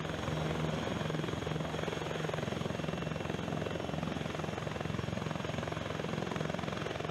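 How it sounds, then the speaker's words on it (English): A T-129 ATAK attack helicopter flies with a continuous, even rotor and engine drone, steady and fairly close with no talk. "the T-129 ATAK is a multi-role attack helicopter"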